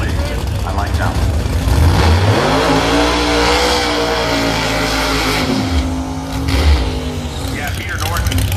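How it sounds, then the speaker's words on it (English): A Camaro and a Fox body Pro Mod drag car race on 10.5 tires, their very loud engines revving and accelerating hard down the strip while a commentator talks over the roar. "Here we go, Camaro and a Fox body."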